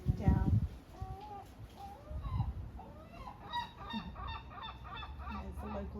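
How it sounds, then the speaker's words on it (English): Birds, named as local seagulls, call outdoors with repeated honking, nasal cries that start loud and close, then continue as overlapping calls at moderate distance. A person talks softly between them. "There's the local seagulls."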